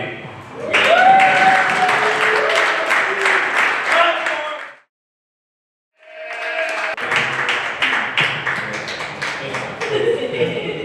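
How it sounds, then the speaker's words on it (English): A comedy-show audience applauds loudly for several seconds, stops briefly to near silence, then breaks into another round of clapping, with a voice heard over the applause. "Clap for Brian B."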